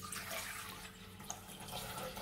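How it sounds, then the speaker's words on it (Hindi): Water poured into a cooking pot holding tomatoes, a soft steady stream with faint trickling and splashing, quiet and continuous. "पानी डालिए"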